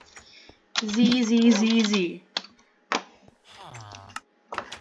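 A computer keyboard is typed on in a Minecraft game, giving a few scattered sharp keystroke clicks around a burst of talking.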